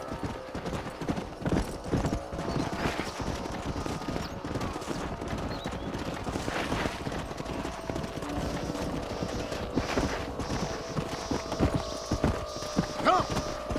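Horse hooves clip-clop in a steady, continuous rhythm, with a low hum and occasional faint clatter underneath, in the video game Red Dead Redemption 2.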